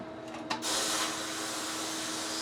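Sandblaster blasting grit against the inside of a motorcycle cylinder head in a community garage blast cabinet, a sharp burst giving way to a loud, continuous hiss that holds steady throughout.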